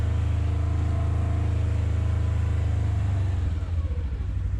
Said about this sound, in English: That CVT is a little loud, but it's been like that since I got it